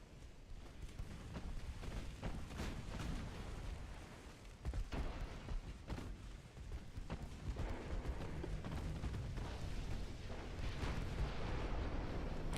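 Heavy cruiser gun salvos boom in a naval strategy game, a dense, continuous rumble of overlapping blasts and explosions that stays loud and close throughout with no speech.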